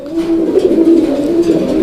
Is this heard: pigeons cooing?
yes